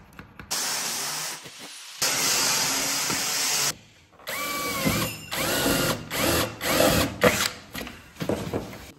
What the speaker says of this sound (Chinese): 这几个地方呢要给它打个眼儿。